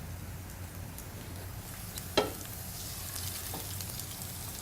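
Fish sizzles in a hot pan, a faint, steady crackle and hiss with one sharp spit partway through, close by and with no voices.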